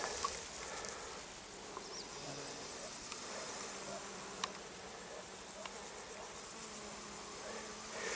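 Bees work chamomile flowers on a riverbank, their buzzing a continuous close drone that rises and fades as insects move around, with faint chirps in the background.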